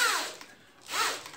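A screw is driven into a wooden joint with a power driver, two short whirring pulses rising and falling about a second apart, close and fairly loud with no talk.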